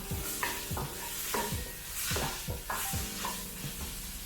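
Ground pork frying for mapo tofu while being stirred, a steady sizzle with regular scraping strokes roughly every half second, quiet but close.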